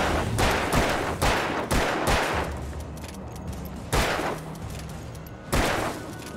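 Gunfire in the video game Alan Wake: loud, close shots fired in quick bursts, about eight sharp cracks with short echoing tails, grouped in clusters with a couple of brief pauses between them.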